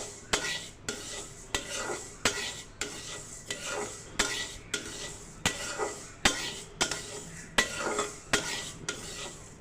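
A utensil scrapes and knocks rhythmically against a pan while chicken skin and mung dal are stirred, about a dozen clattering strokes in steady succession with a soft sizzle underneath, close and fairly quiet.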